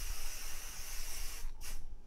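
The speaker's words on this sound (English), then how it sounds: "So let me spray it." Spray adhesive hissing from a can during machine embroidery prep, a steady close airy spray with a brief pause near the end before it resumes.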